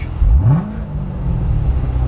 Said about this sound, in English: I'm going to put the gas pedal down to the floor